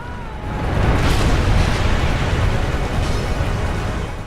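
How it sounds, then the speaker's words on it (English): A broad, rumbling explosion in the video game Final Fantasy X swells up and holds loud and steady for several seconds, a dense roar with no clear separate pops. "Explosion happens, just stands there."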